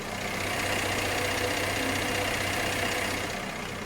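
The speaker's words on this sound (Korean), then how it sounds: "엔진룸을 열었을 때 들리는 소리가 뭐 잡소리도 전혀 들려지지 않고 엔진 소리 또한 정말 정숙하네요" A Mercedes-Benz E300 petrol engine idles with the engine bay open, a steady, smooth, even hum with broad mechanical hiss and no clear knocks, heard up close and alone.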